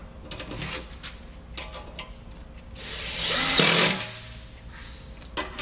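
A screwdriver drives stainless steel lock nuts onto a mailbox during assembly, giving short mechanical whirs and clicks, with one louder, longer ratcheting burst near the middle, close and without speech.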